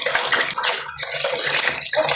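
Fish being washed under steadily running water: a loud, continuous splashing stream with slight shifts in the flow, close by and with no talking.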